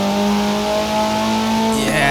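A Maserati GranTurismo engine in a Forza racing game holds a steady, high-pitched rev, a loud sustained tone close up that shifts abruptly near the end.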